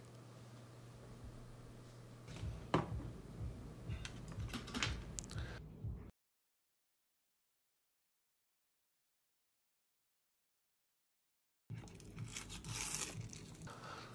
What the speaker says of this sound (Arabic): والف الترمومتر الناحيه التانية علشان اشيل الكفر اللي بيكون موجود على الشاشه بتاعته